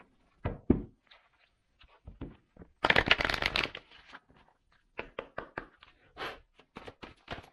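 Tarot cards are shuffled for a reading in short bursts of riffling and slapping, with a louder, longer riffle in the middle and softer taps and flicks around it, close and distinct with no talk.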